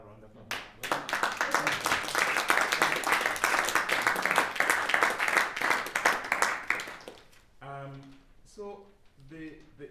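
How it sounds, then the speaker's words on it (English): Applause with clapping fills a seminar hall at a conservatory for several seconds, a dense sustained patter that fades out as a voice resumes talking. "This another round of applause."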